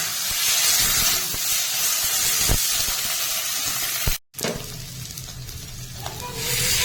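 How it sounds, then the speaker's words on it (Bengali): Potatoes and spices frying in a pan with a splash of water, a loud, steady close sizzle and hiss with stirring scrapes, a brief cut partway through, then the sizzling continues. "মশলা ধোয়া হালকা জল দিয়ে আলু আর মশলা একসাথে ভালো করে ভেজে নেব।"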